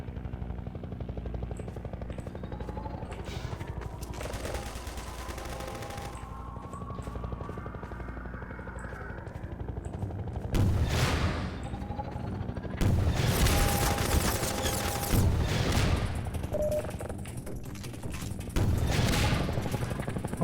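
Video game gunfire on the d2_coast_02 map, steady rapid automatic bursts and heavy booming shots rolling over a continuous mechanical drone, loud and sustained with louder flurries in the second half and no voices.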